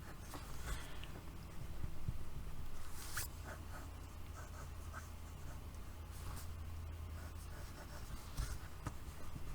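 A pencil sketches a beard onto paper, making soft, close scratching strokes in short bursts over a low background hum.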